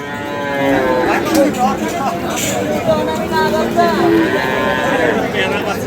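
Low cattle moos rise amid steady crowd chatter and nearby talking at a busy cattle market.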